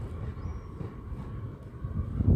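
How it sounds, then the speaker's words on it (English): A Northern two-car class 156 train pulls away from platform 2 at Whitehaven, a low rumbling drone that swells louder toward the end as it moves off nearby. "Train that's just left platform 2 at Whitehavens"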